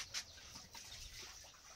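Chickens cluck faintly in a quiet farmyard, with one brief louder call near the start.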